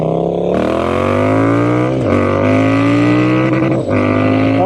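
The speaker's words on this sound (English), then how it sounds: "That was a rev limiter." Triumph Speed Twin 1200 with an Italian Zard exhaust held against the rev limiter, a loud sustained engine drone with harmonics climbing steadily and small stutters as the limiter cuts in, close and continuous.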